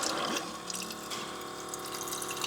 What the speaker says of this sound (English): For the water, we have this Dometic Go Hydration that I said I would buy.